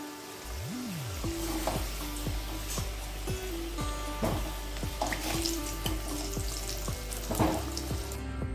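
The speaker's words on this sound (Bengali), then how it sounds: "আর একটা পিঠ ঘুরিয়ে এটাকেও আর একটু 2 মিনিট মতো ঢেকে ভেজে নেব।" Potatoes fry in hot oil in a pan while cooking a chicken and potato curry: a steady, close sizzle runs throughout, broken by repeated sharp metallic clinks and scrapes of a spatula against the pan. No one speaks.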